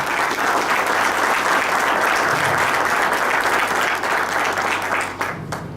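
A crowd at an agricultural show forum gives a sustained round of applause, loud and dense throughout before tapering off in the final second.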